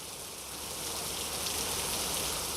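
Heavy rain falls in Pune, a dense, even hiss of water on surfaces that holds steady and swells slightly, with no voices and no distinct drops standing out.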